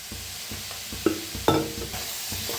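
Vegetables, including field beans and brinjal, are stirred in hot oil in a pan, with a steady sizzle of frying broken by a few sharper scraping stirs close by.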